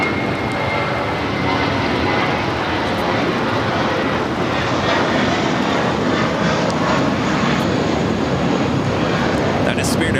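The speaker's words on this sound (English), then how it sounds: "That is Spirit Airlines flight 391 heading to Pittsburgh, an A320." A Spirit Airlines Airbus A320 jet at LAX fills the air with a steady, loud engine roar that holds unbroken for about ten seconds.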